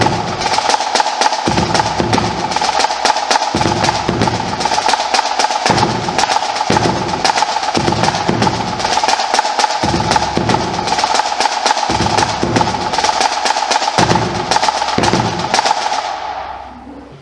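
Marching bass drum playing a steady SEC-style beat together with a snare drum, dense rapid snare rolls and accents layered over deep repeated bass hits in a driving rhythm, loud and close.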